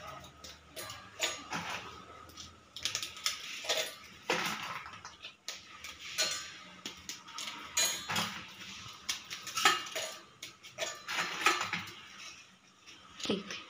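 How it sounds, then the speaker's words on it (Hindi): Oreo biscuits snapped by hand and dropped into a grinder jar, a steady run of light crisp cracks and small clinks against the jar, close and fairly quiet. "अब इसे मैं ग्राइंड करूंगी, तोड़ के मैं जार में डाल रही हूँ।"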